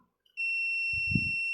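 A multimeter's continuity buzzer sounds one steady, loud, high beep lasting over a second while a microwave oven is being tested for a short to its body.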